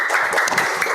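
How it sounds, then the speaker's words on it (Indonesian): A classroom of students claps for a classmate named Raihan after his presentation, a brief steady patter of many hands close by with no talking. "ya beri tepuk tangan buat Raihan"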